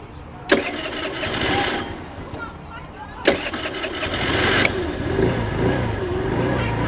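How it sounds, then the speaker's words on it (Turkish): A small 2021 Motolux Rossi RS 50 50cc motorcycle engine is cranked and catches twice in a row, then keeps running with a steady, buzzy idle nearby. "Şuradan ben Gaz vereyim çalıştırayım bunu ya"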